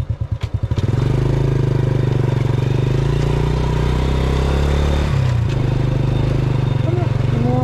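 Motorcycle engines run on a rocky, bumpy dirt road in Bulacan, Philippines, a loud continuous mid-pitched drone with some rattling clatter, close by and fairly steady throughout.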